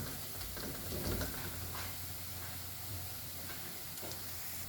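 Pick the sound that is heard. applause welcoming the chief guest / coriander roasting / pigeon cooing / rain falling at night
coriander roasting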